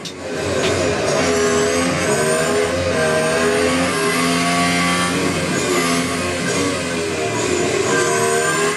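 In the racing video game Real Racing 3, a race car engine revs and accelerates continuously with loud, steady engine tones shifting in pitch and no talking.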